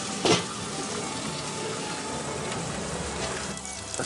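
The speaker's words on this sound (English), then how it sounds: "I'm gonna go in there fat side down, right in that bacon grease" Corned beef laid fat side down in bacon grease in a cast iron pan, with a steady, close sizzle and crackle throughout and a brief clatter near the start, most likely from the lid.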